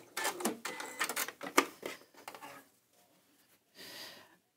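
A sewing machine runs a seam off the edge of a quilt square in short, close bursts of quick mechanical stitching, then goes quiet before one more brief burst.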